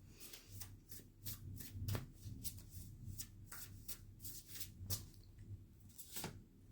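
Repeated brisk riffling of a tarot deck, about a dozen quick bursts in steady rhythm, close and clear with no talking.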